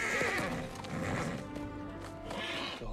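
Restless horses neigh and whinny in a tense pre-battle camp scene from The Return of the King, several overlapping calls with faint hoof clatter under a dense, continuous background.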